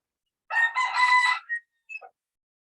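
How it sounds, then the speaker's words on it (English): A pet rooster crows once nearby, a loud, clear cock-a-doodle-doo followed by a couple of short trailing notes, in an otherwise silent indoor setting. "And that would be my rooster, Hart, which Drake named"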